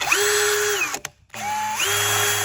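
A Keyang power drill, used for building a metal-sheet awning, whirs loudly and close at a set speed, spinning up, cutting off briefly, then starting again and running steadily.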